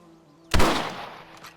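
A single loud rifle shot in Red Dead Redemption, a sharp close crack with a long fading echo over a quiet background hum.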